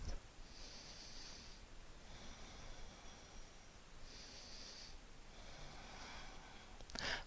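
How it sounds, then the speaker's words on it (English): Slow, deep breaths during a vinyasa yoga flow, soft airy inhales and exhales alternating in a calm rhythm, close and quiet with no talking. "Deepen your breath."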